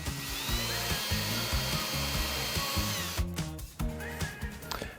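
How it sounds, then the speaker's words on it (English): A power drill bores through a metal ceiling channel of a tray ceiling, the motor whining in a steady run with rhythmic chattering pulses, then shifting to rougher grinding bursts near the end, close and loud. "So I drilled a hole through the metal channel and up into my attic."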